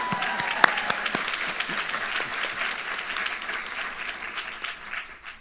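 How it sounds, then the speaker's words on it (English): Applause from an audience at a university nursing graduation ceremony, a steady round of clapping that carries on alone for several seconds, dense at the start and easing slightly toward the end. "this round of applause goes to you"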